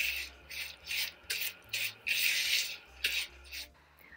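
Crushed digestive biscuit crumbs are stirred with melted butter in a container, giving a series of short, close scraping and rubbing strokes in an uneven rhythm, with no voices.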